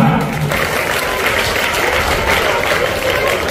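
Sustained crowd applause after a first-prize announcement at an Eid-e-Milad speech competition in Bhusawal, loud and even, with no pauses.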